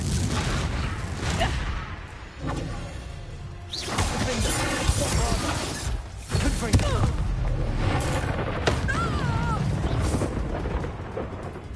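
Confringo blasting spell detonating in the video game Hogwarts Legacy, loud booming blasts and crackling fire bursts recurring through dense game noise and music, with a voice speaking over parts of it.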